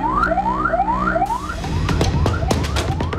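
Fire engine siren from a fire brigade truck held up by a street parade in a village in Indonesia, repeating quick rising wails, loud and close, then giving way to a noisier blend of horn blasts and crowd clamour.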